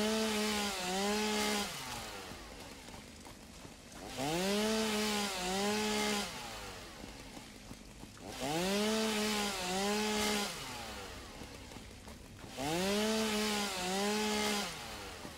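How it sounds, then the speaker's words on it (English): In the video game Satisfactory, a chainsaw cuts through vegetation in four regular revving bursts about four seconds apart, each whining up and dipping back, loud and close with brief quieter gaps between. "We're gonna fire up our chainsaw. And let's see if we can clear out some brush."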